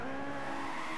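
A car drifts and slides in Gran Turismo 5, a racing video game, with a brief steady squeal of tires over the constant engine drone, loud and close throughout.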